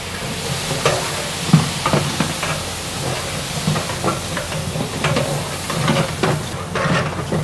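Onions and garlic fry for mutton biryani in a street-side kitchen, a steady sizzle broken by repeated scraping, clattering stirs of a utensil against the pot, close and fairly loud, with no talking.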